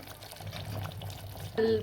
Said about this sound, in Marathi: याच्यामध्ये गरम पाणी टाकायचं आहे आपल्याला